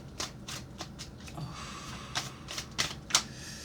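Tarot-style cards are shuffled by hand close up, a string of crisp riffling snaps and flicks in irregular bursts, several sharper clacks near the end, with no voices.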